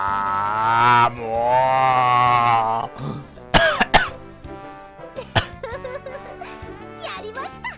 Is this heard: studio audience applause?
no